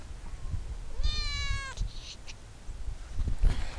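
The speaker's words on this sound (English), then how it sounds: "You get to meet my cat Junebug" A pet cat meows once in a long, drawn-out, clearly pitched cry, fairly close, with faint indoor rustling before and after.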